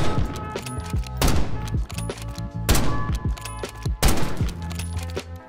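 Rapid sniper and gunfire shots in the video game Black Ops 6: loud, sharp cracks in clusters with booming tails and overlapping rapid fire, repeating roughly every second and a half against a steady game soundscape.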